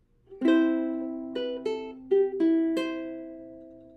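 Ukulele picked fingerstyle plays the opening section of a song, a handful of plucked notes with gentle pauses, each ringing and decaying, close and fairly soft.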